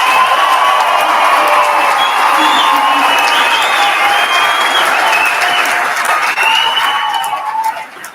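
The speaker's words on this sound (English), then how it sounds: "that is worthy of your appreciation and applause" Loud, dense applause fills a hall at a cadet class graduation, with cheers and whoops over the clapping before it tapers off near the end.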